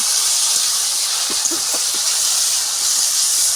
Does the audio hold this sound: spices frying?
yes